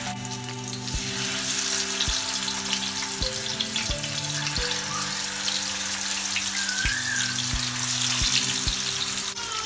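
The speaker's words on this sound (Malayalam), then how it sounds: "നമുക്ക് അതിലേക്ക് മസാല പുരട്ടി വെച്ച് മീൻ പതുക്കെ ഇട്ട് കൊടുക്കാം." Masala-coated tuna fries in coconut oil on a tawa in Kerala style, a dense, loud, continuous sizzle heard close up with no talk, under a steady low hum and a few faint bumps.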